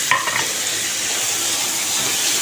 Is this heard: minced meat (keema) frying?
yes